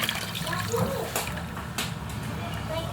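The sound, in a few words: pouring chicken stock into soup pot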